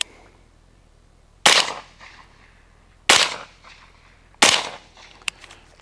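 Three sharp, loud suppressed rifle shots from a 5.56 rifle with a 14.5 inch barrel and a Thunder Beast Arms Spiro suppressor, fired outdoors at a berm, evenly spaced about a second and a half apart, each with a short decaying tail.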